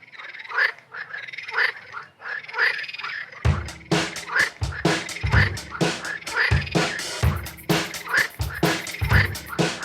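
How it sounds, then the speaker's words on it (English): Frog croaking in repeated rough, rasping bursts, steady and rhythmic at close range, growing louder and denser partway through and continuing without speech. "This frog is too much."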